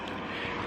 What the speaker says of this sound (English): And I can hear the helicopters over there.